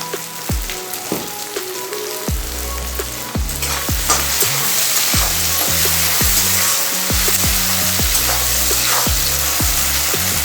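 Onion and tomato fry in oil for chicken curry, giving a steady, dense sizzle with a spoon knocking and scraping the pan in a regular rhythm. The sound is close and continuous, and no one speaks.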